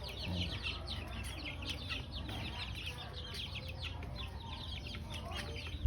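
Pet chickens in a backyard coop give repeated soft clucks that overlap throughout, quiet and close, over a low background hum.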